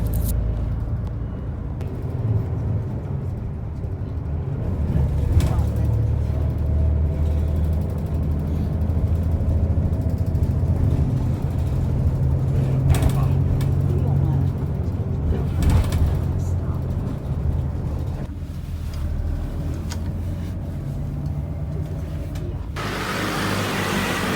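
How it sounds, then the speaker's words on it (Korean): Continuous low engine rumble and road noise inside a moving city bus in Taipei, Taiwan, with occasional knocks and rattles and muffled voices in the background. "버스가 중샤오푸싱역에 도착했어요."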